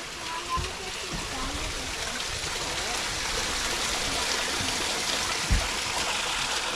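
Spring water runs steadily along a forest trail in a park, a continuous broadband wash of flowing water with a few soft low thumps, heard fairly close and without clear talk.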